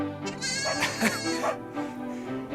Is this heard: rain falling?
no